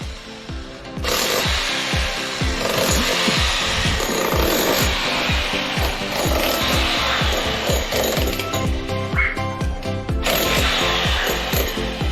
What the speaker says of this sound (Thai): เจาะสกิมเมอร์